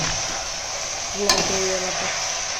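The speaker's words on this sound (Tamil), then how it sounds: "நல்லா கலந்து விட்டுக்கலாம் ஃபுல்லாக எல்லாத்தையும் மிக்ஸ் பண்ணியாச்சு" Vegetables for a vegetable biryani are stirred in a pan over a steady broad sizzle, with a brief clatter of the spoon against the pan near the middle.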